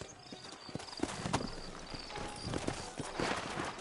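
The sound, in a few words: horse hooves clip-clop, from a video game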